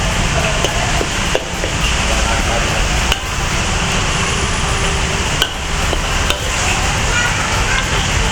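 Spiced paste of mixed shallots and garlic being stir-fried in oil in a pan for Pontianak pineapple paceri, a steady dense sizzle running throughout with a few clanks of a utensil.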